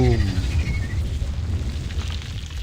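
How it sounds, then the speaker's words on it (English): Explosion in the Reverse 1999 video game, a heavy low rumbling boom that starts loud and rolls on while slowly fading, with a voice heard briefly at the start. "It's an explosion."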